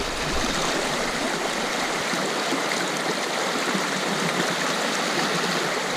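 River water rushes steadily through a sluiceway on the East Wanapitei River, a dense, loud, continuous roar of churning current heard close with no voices.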